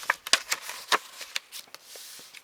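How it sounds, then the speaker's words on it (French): Paper card being folded along diagonal creases during card making, close crisp crinkles and rustles in short irregular bursts, quiet between them, no talk. "on va replier donc sur les plis de la diagonale qu'on vient de tracer"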